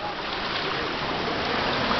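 Water in a hot spring bubbles and churns in a continuous, even rushing hiss that holds steady throughout, with no voices.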